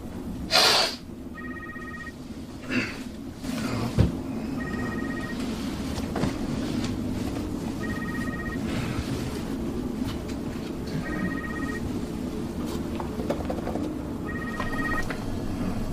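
A telephone rings for a phone call in a movie scene, a repeated electronic trill sounding about five times at a steady interval, moderately loud against background ambience.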